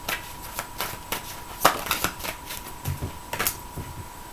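Tarot cards being shuffled and drawn by hand, giving a run of soft, close papery flicks and snaps at an irregular rhythm, with no talking.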